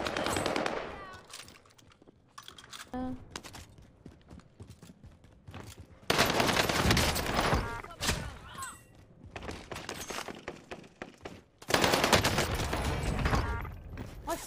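Rapid bursts of automatic gunfire from Call of Duty Warzone on Rebirth Island, loud and close in repeated sustained volleys with short pauses and scattered single shots between them, under occasional talk.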